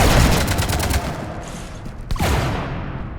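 Rapid bursts of gunfire from the video game Mass Effect 3 rattle loudly through the first second, then ease off before a sharp shot near the middle and a renewed volley trailing away, all without speech.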